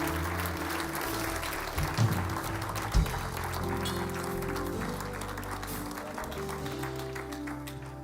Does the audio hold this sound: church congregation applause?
yes